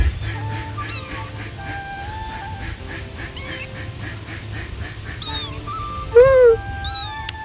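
Small kittens, one of them white, mew repeatedly in short high-pitched cries at close range, with a louder, sharper meow near the end over a low background hum.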